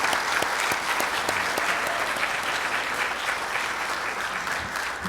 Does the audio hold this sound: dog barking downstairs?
no